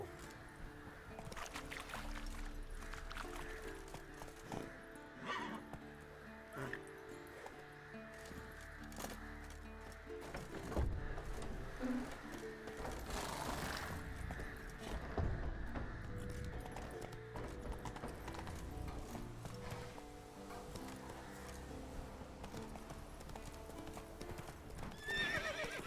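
The horse Roach gallops in The Witcher 3, hooves clip-clopping in a steady rhythm for the whole stretch while it neighs and whinnies now and then, set against game music and ambient effects.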